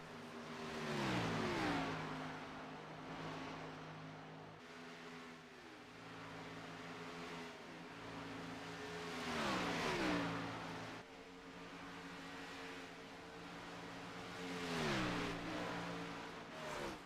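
Race cars in an ESRA Pro Series event pass on the track in a repeated cycle: engines rev up, sweep by with a falling pitch and fade, each pass several seconds apart, fairly faint and with no talking.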